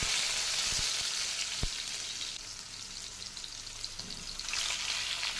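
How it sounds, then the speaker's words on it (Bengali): Pieces of bhetki fish fry in hot mustard oil, giving a steady, close hiss and sizzle with occasional sharp pops and crackles, no voices. "তো তাতে মাছের পিসগুলো আমি ভেজে ভালো করে তুলে নিচ্ছি।"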